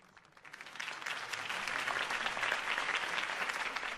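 Applause from a large crowd in Telltale's Batman video game swells up from quiet and holds steady, a dense wash of clapping at a moderate distance.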